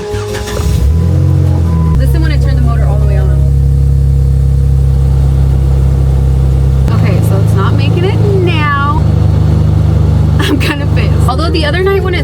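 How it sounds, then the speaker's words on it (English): The faulty blower motor in a 2011 Jeep Wrangler JKU runs at full speed, a loud steady droning hum that shifts pitch partway through, while people talk over it. "Listen when I turn the motor all the way on."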